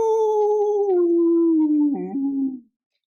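A person imitates a wolf howl: one long, loud sliding cry that falls slowly in pitch, wavers near the end and then stops abruptly into silence.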